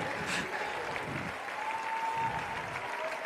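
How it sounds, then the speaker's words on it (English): Athletes gathered at the finish line of a decathlon 1500 metres race at the Australian Athletics Championships clap steadily for a finisher, a continuous moderate patter of applause with faint crowd noise around it. "You can see them out, they're all across the finish line, clapping him over."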